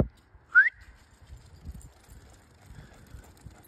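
A single short sharp whistle blast signals the start of a late-night outdoor Rottweiler race, rising briefly in pitch, then low rumbling wind and faint movement noise continue at a distance.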